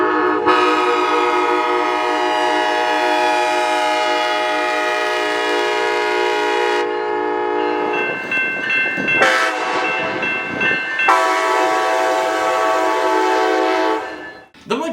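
A Charger locomotive's K5LA-B five-chime train horn sounds a dissonant, sinister diminished chord in several long sustained blasts separated by short gaps, loud and close, with no voices.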